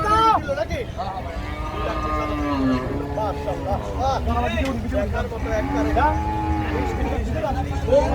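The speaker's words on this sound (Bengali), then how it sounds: "সুঠানদের গরু বিক্রি হয়ে গেল দুই লাখ বিশ হাজার টাকা" Cattle moo repeatedly in long, drawn-out calls amid a noisy crowd at a cattle market in Ashulia, Dhaka, with people talking nearby throughout.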